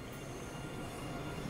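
Train running in Train Sim World 2 on the Köln-Aachen high-speed line, a steady rumbling rail roar with faint wheel squeal, continuous and moderately quiet with no talking.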